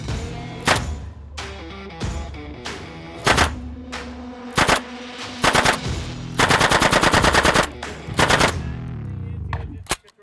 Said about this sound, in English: I shot an Uzi